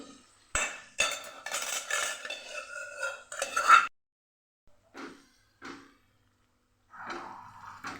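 Boiled guar beans with their cooking water added to a pan: clattering of a utensil against the pan, several bursts of scraping and clinking, then a few softer knocks and a brief stir near the end.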